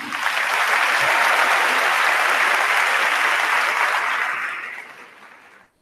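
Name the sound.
applause at a high school graduation ceremony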